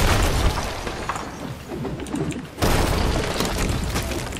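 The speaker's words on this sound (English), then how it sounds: "All right, just cannons on the left." Cannons fire during a ship battle in the Sea of Thieves video game, heavy booms rising out of a dense, roaring wash of noise, with a sharp, louder burst partway through.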